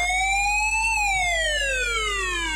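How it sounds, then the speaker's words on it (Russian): Police siren on a UAZ Patriot traffic-police mod in the off-road driving game Spintires: a loud, clean electronic wail that rises and then slowly falls, with no talk over it. "Также тут присутствовать будет сирена."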